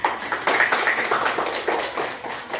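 A group applauds together at a school gathering, a short burst of lively, uneven clapping heard up close, with individual claps standing out from the mix.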